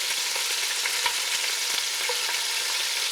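Meat searing in a pot for goulash sizzles steadily and close by, a dense, even frying hiss with faint pops and crackles and no talking.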